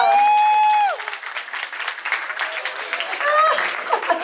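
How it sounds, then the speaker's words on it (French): An audience claps for Brigitte during a fun games week event, with a tonal voice or whistle at the start, then an uneven spatter of clapping and some laughter. "On applaudit Brigitte."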